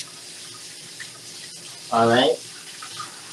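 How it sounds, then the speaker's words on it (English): A kitchen tap runs steadily while a spoon is rinsed under it, a soft continuous water hiss broken briefly by a short spoken phrase. "Let me wash out this spoon."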